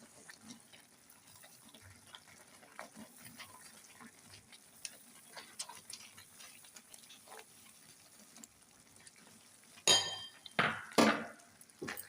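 Spoon stirring carrot halwa with sugar, cashews and raisins in a pan over low heat, with soft scraping and clinks throughout, then a few louder metallic knocks and scrapes near the end.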